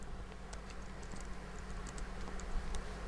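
Light, close tapping of keys on a computer keyboard, typing in OpenOffice Writer as a quick uneven patter over a faint background hum, with no voice.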